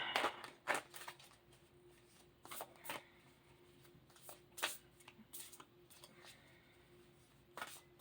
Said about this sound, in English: I'm shuffling the tarot first